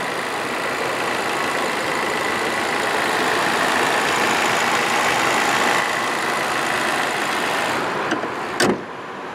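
A 2017 Chevy Malibu LS with a 1.5 liter turbo 4-cylinder idles in a steady, even hum, with a brief sharp click near the end.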